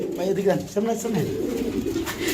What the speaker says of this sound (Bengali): দেখতে পাচ্ছেন বন্ধুরা এটা কি কবুতর বাবু ভাই